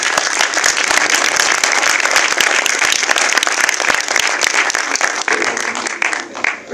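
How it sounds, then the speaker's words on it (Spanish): An audience at a German film festival press conference applauds for the director, a dense, sustained round of clapping from a sizable crowd that holds steady before tapering off at the end. "quiero pedir un aplauso acá para Germán Kral"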